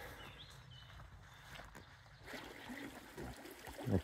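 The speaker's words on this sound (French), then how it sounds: "Ce joli petit ruisseau." Small stream flowing beside a hiking path through heathland with rocky outcrops in the Creuse countryside, a steady soft wash of running water throughout, slightly fuller toward the end, with no voices.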